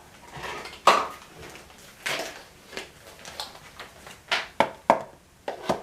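Rummaging among kitchenware to find a funnel: a series of clattering knocks and clinks of pots, dishes and metal utensils being shifted, irregular and close, louder toward the end, with no talking.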